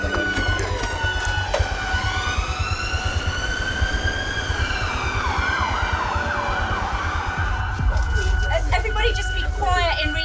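A wailing ambulance siren rises and falls over a constant low rumble of traffic noise, with indistinct voices mixed in, arriving at a hospital ramp.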